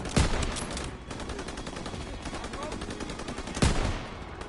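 Sniper rifle fire in the Call of Duty WWII video game, with two loud sharp shots about three seconds apart over a dense wash of battle noise.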